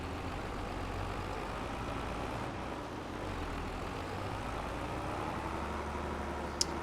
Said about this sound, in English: this tractor is having to pull hard now